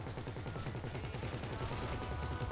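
Rapid automatic gunfire in the GTA 5 Online video game, a dense, continuous rattle of shots that stays loud and steady throughout with no pauses.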